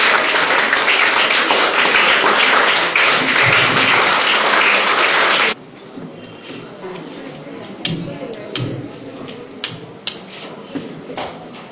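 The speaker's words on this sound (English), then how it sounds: "Please applause for our children." Loud, dense applause for schoolchildren at a school event fills the first half, then drops away abruptly to scattered individual claps and taps amid quieter room noise.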